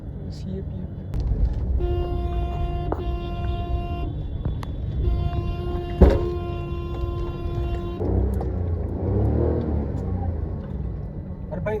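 Stalled traffic jam at the Balichak railway crossing, where overbridge construction is under way: steady car engine rumble and idling throughout, with a couple of long horn toots and a sharp knock near the middle.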